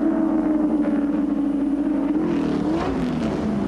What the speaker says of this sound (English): Harvey has spotted the back of the Chickadee Commodore, and Cross in for the ride too as they head up Mountain Straight to Bridgestone Corner